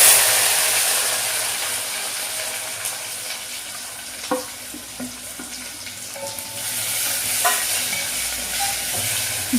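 Cumin, onion, green chili, tomato and garlic sizzle in a frying pan, a loud continuous hiss broken by occasional close scrapes and taps of stirring.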